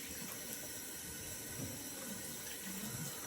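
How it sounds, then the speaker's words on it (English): Water runs steadily from a tap while shaving lather is rinsed off, a continuous close hiss and splash with no talk. "rinse the lather off, get the next pass started"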